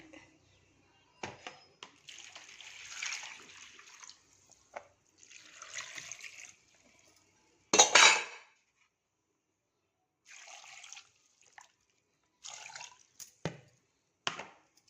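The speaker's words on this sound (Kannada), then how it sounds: "ಇವಾಗ ಇದು ಮುಳುಗೋಷ್ಟು ನೀರು ಹಾಕ್ತೀನಿ" Water splashes into a pressure cooker over cut drumsticks, tomatoes and other vegetables in several separate pours, with sharp knocks and quiet gaps between them.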